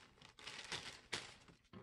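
A plastic bag is opened up close: short, quiet crinkling and rustling bursts with a couple of sharper crackles, soft and brief in a quiet room.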